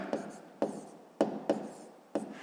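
Chalk or pen strokes from a math expression written by hand, five or six short separate taps and scrapes spaced out, close and fairly clear with no talking.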